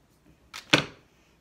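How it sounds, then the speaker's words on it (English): Scissors trim the loose top end of a knotted string on a small nesting ball, making two quick close snips in fast succession in an otherwise quiet space. "then I'm going to trim off this little top bit a little bit"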